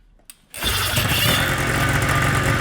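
A free 440cc two-stroke engine is started: a brief pull, then it catches and settles into a loud, steady, buzzing run close to the listener, with no talking.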